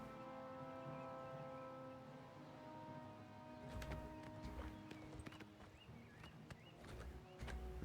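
Horse hooves clip-clopping in Oblivion Remastered, a quick run of light clopping steps entering midway over a steady game music drone, moderately close and fairly soft.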